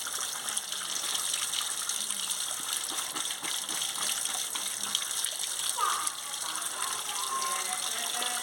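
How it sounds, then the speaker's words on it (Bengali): Water gushes steadily over cut potatoes and Malabar spinach stems as they are washed, a continuous, fairly loud splashing rush throughout with slight variations and faint background voices. "আলু আর পুঁই ডাঁটা কেটে নিয়েছি,"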